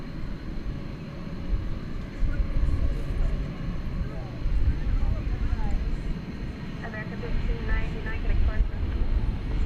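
A Qatar Airways Airbus A350-1000 jet rumbles at an airport in a steady, broad roar that swells and eases, moderately distant, with faint higher engine tones near the end.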